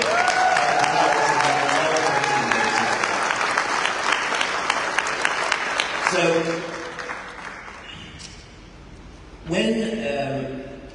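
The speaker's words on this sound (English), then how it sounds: "Could you give Dr. Stacy and Brent a nice round of applause?" Conference audience at a live Orlando event gives a round of applause, dense sustained clapping for about six seconds that fades out, followed by someone speaking briefly.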